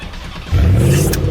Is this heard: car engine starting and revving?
yes